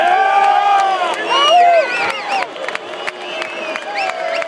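A crowd at a boxing event in El Paso cheers, whoops and applauds loudly to welcome the mayor, the roar filling the whole stretch with shouts rising above it.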